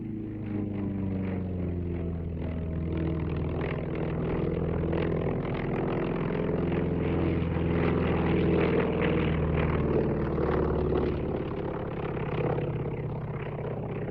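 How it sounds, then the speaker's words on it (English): A Royal Navy Fleet Air Arm Wildcat 5 flies a pass at an airshow, a steady droning engine and propeller hum with layered low tones that swells slightly as it passes, alone and moderately loud. "Wildcat now just about to make final pass this afternoon"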